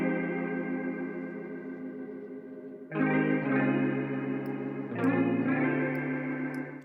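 A synth pad run through the Baby Audio Crystalline reverb plugin preset plays sustained, shimmering chords that shift twice, washed in lush chorus-like reverb, loud and alone with no talk.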